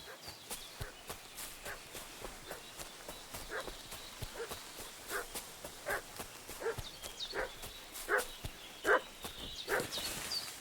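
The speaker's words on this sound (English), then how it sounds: "What's that dog making such a fuss about?" Dog barking repeatedly in the medieval open-world game Kingdom Come Deliverance 2, a string of sharp, moderately loud barks at an irregular rhythm over an outdoor ambience with a hooves-like clatter.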